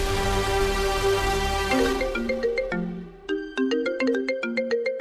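A phone ringtone for an incoming call plays as a clear melodic sequence of repeated electronic notes, loud and close, with no voices over it.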